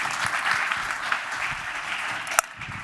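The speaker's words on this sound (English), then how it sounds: "Please give them a round of applause" Audience applauding volunteers at an FMX masterclass on forced perspective shoots, a steady wash of many hands clapping throughout, with one sharp louder clap near the end before it thins out.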